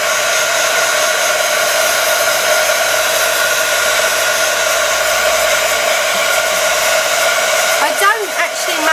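Hair dryer blasting steadily and loudly across a mixed media index card, a constant whooshing drone that runs the whole time with only slight wavering near the end.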